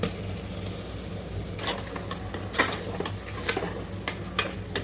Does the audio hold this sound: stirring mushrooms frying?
yes